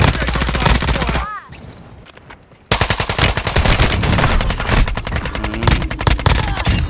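Rapid automatic fire from a TR-76 rifle in Call of Duty Warzone 2.0, loud dense bursts with a brief quiet gap, then a long sustained string of shots close up.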